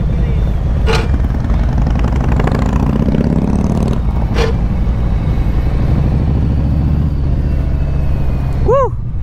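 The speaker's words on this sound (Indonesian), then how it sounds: "Depan gue Brother Rangga dengan motor barunya." A Harley-Davidson Police motorcycle engine runs loudly and continuously with a low rumbling drone, with a couple of sharp clicks and a brief tonal chirp near the end.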